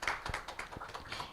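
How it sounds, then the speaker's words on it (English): A few scattered claps ring out from a press-conference audience at the 2025 Open Government Partnership Asia and the Pacific regional meeting, short and fairly quiet, with no voices heard. "A round of applause for Mr. Paul Maassen."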